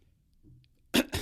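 A single short, sharp cough bursts out near the end after a quiet stretch, close and fairly loud, followed by a second smaller burst.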